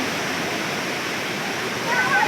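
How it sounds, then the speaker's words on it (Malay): Steady broadband rush of water from the seventh-tier waterfall at Tapaktuan in South Aceh, a constant near roar with faint chirping birdlike tones toward the end. "Inilah suasana di air terjun tingkat 7 yang terletak di Aceh Selatan, Kabupaten Aceh Selatan."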